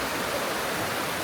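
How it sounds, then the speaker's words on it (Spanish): A mountain stream in Jiuzhaigou, China rushes downhill in a dense, steady, close-up wash of flowing water with no breaks. "baja el arroyo"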